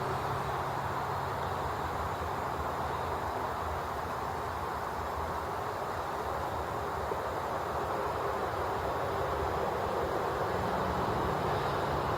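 Steady, distant rumble of highway trucks and airplanes from a nearby airport by a pond in Lincoln, Rhode Island, a continuous broadband drone with no distinct events, fairly faint throughout.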